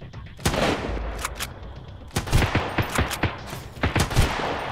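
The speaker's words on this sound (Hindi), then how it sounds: "सीधा ऑटोमेटिक गन चला रहे भाई" An automatic gun fires in the survival shooter Sunken Land, with a loud, rapid string of shots, a brief lull, then repeated bursts from close range.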